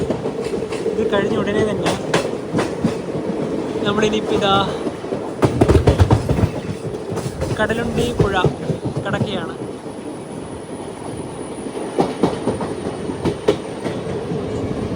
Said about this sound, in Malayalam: ട്രെയിൻ ഇപ്പോൾ കടലുണ്ടി റെയിൽവേ സ്റ്റേഷനിലെത്തി.